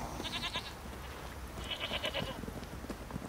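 Two short bursts of bleating from a goat in The Witcher 3: Wild Hunt, separated by a pause, over a busy background of clicks and ambient game sounds.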